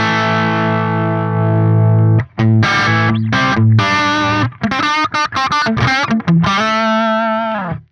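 Electric guitar played through a Neural DSP Soldano SLO-100 amp plugin with a distorted, driven tone: a long sustained chord ringing for two seconds, then choppy chord stabs and quick note runs, ending on a held, wavering note.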